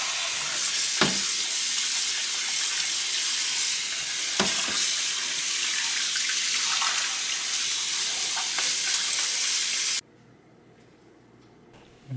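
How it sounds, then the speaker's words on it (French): Onion slices frying in two tablespoons of red oil over medium heat, a dense, steady sizzle up close with a few sharp crackles and stirring, cutting out abruptly near the end. "sur un feu moyen, ajoutez 2 cuillères à soupe d'huile rouge et des morceaux d'oignons coupés en lamelles"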